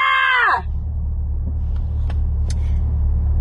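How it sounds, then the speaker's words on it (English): A woman screams sharply at her boyfriend for half a second, a loud burst up close that breaks off into a low steady rumble of a vehicle interior. "Why the hell you keep screaming at me?"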